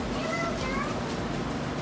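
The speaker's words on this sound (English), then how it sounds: "Hello to kitties." Small kittens give a few thin, high meows outdoors, soft and brief, mixed with a person talking to them over steady wind and background noise.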